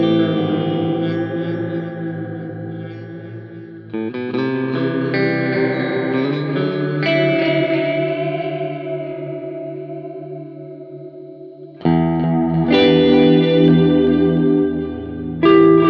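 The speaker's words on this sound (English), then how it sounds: "So now both delays are panning." A Boss SDE-3000D dual digital delay with both delay lines panning, processing sustained instrumental chords that smear into layered, echoing repeats, swelling in a few distinct waves with a loud restart near the end.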